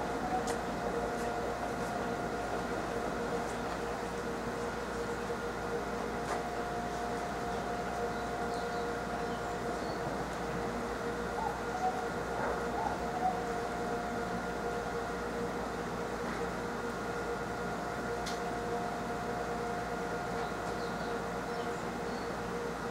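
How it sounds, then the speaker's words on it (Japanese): The Resort View Furusato rapid train to Minami-Otari departs the station with a steady rumble and a continuous tonal hum that holds throughout, carrying no talk, heard from the platform. "一番手から臨機快速のリゾートビューふるさと南宇田行きまもなく発車いたします"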